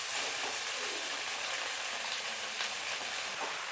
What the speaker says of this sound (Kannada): ಇದಕ್ಕೆ ನಾವೀಗ ಕಟ್ ಮಾಡಿಟ್ಟಂಥ ಪತ್ರೊಡೆಯನ್ನು ಹಾಕ್ಕೊಳ್ತಿದ್ದೇವೆ.